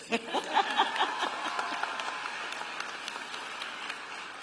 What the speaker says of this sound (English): yes, you may clap.